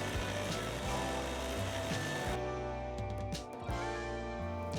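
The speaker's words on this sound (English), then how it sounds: "I can carefully sand right up to my line and repeat until the patch fits into the recess." A wood patch is sanded down to fit a recess, making a loud, steady power-tool whir with a rhythmic low pulsing throughout; no voices.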